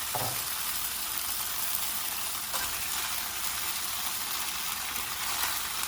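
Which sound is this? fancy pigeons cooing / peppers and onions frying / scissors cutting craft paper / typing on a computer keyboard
peppers and onions frying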